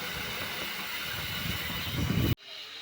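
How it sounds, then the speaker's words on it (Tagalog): A Hanabishi air cooler's blower runs with a steady whooshing hiss and low motor rumble for about two seconds, then cuts off abruptly to a much quieter background. "Kung talagang gumagana yung blower."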